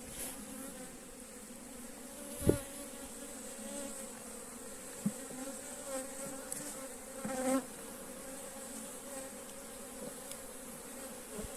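Honey bees in an open beehive with plenty of brood, a dense steady buzzing close by throughout, with a few soft knocks and clicks from handling the frames.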